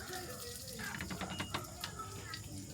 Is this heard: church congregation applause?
no